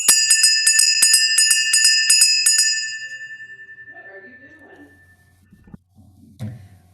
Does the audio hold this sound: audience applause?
no